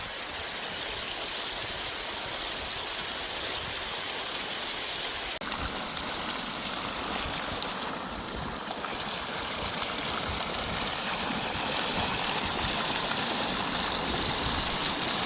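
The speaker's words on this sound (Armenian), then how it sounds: "Պատկերացնու ինչքան ջուր է վարկյանում կորում, սենց գնում, լցվում է։" Drinking water gushing from a leaking supply pipe in Nubarashen, a loud continuous rushing roar that runs unbroken throughout.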